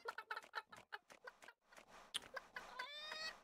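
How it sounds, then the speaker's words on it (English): A chicken in the video game Secrets of Grindea clucks in a quick run of short, sharp pecking calls, then rises into a longer squawk, close and clear with no talk over it. "Okay, so we can see that chicken."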